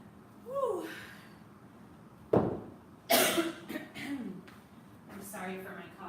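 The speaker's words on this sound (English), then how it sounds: "I'm sorry for my coughing." Repeated coughs during a home arm, shoulder and ab workout, with sharp bursts near the middle followed by a cluster of rougher coughs and breaths, and light vocal sounds earlier.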